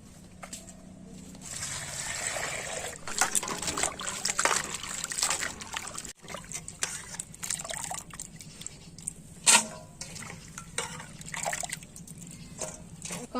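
Chopped hog plum pieces are washed in water in a village kitchen, with soft drips, trickles and light sloshing throughout and some faint clattering, all fairly quiet.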